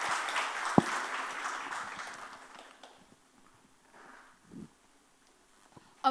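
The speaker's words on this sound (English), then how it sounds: "a big round of applause for our first speaker, CA Harikishan Rangawat." An audience applauds at a seminar on UAE corporate tax, a dense burst of clapping that starts fairly loud and steadily thins out over the first few seconds, leaving a quiet room with a few faint thuds.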